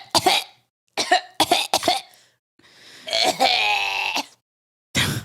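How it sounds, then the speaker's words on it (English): A voice producing a string of harsh coughs, several short bursts followed by a longer strained, bleating cough, then another abrupt cough at the end. "Just cough like a kid."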